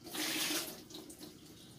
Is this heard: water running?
yes